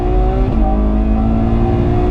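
A Ferrari 812 Superfast with a front-mounted V12 revs hard on the Fiorano track, a loud, close, sustained engine howl holding high revs with a brief dip in pitch.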